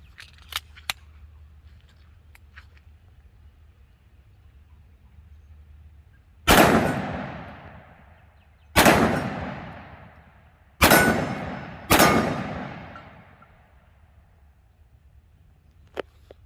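A 10mm pistol loaded with 150 grain Nosler rounds fires four loud, sharp gunshots outdoors, spaced unevenly with ringing decay, after a few small metallic clicks and before a stoppage.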